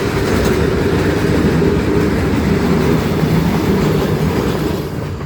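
A train crossing a railway level crossing on a foggy winter day, a loud close rumble with clattering wheels that holds steady and then begins to fade near the end.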